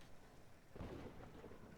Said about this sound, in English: Oh, that storm is really hitting now.